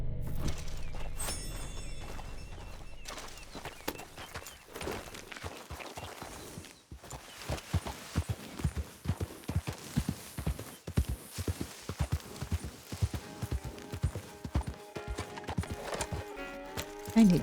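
Hooves of an Andalusian war horse clip-clop in Red Dead Redemption 2, a steady walking rhythm of distinct close thuds, with a brief whinny-like sound and a voice talking over it.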